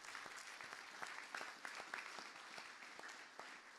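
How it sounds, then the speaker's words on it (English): An audience at a student maker challenge applauds the contestants, a steady crowd of quite faint, fairly distant clapping with individual claps standing out, lasting throughout. "A round of applause for all 10 contestants."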